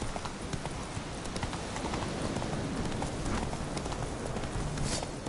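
Horse hooves trot steadily in The Witcher game, a continuous even clip-clop heard up close over a dense noisy background.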